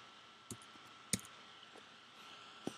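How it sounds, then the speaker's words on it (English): A computer keyboard gives a few sparse, sharp key clicks, spaced irregularly, over a faint steady room hum, with no voices. "So I'm going to type in the word article."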